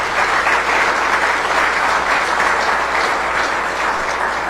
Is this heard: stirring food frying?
no